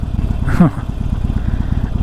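Harley-Davidson 48 motorcycle engine idling warm at about 1,000 RPM, a steady low pulsing throb close by with a brief louder rev near the middle.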